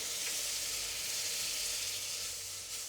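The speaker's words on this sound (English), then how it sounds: "I'm adding in 1/4 cup of brandy." Brandy poured into a pan of cooking Kampot peppercorns for a gravy, giving a steady, loud, close sizzle and frying hiss that holds for the whole stretch with no talking.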